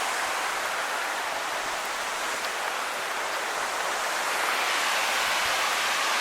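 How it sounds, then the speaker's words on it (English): A waterfall on the Siouxon Creek trail in the forest, a steady, full rushing roar that fills the scene without a break. "The waterfall."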